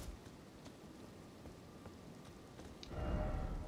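Rain falling in the open world of the video game Elden Ring, a steady hiss of drops that swells louder near the end, heard alone without talk.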